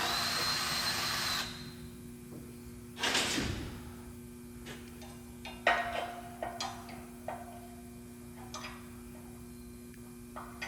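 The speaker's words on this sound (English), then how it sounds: "Then drill with a 5/16 drill bit and tap with your 3/8/16 tap." A power drill with a 5/16 drill bit bores a hole, presumably into metal, during a flex installation. A loud burst of drilling cuts off abruptly and is followed by a sharp knock and scattered close clicks and taps over a low steady hum.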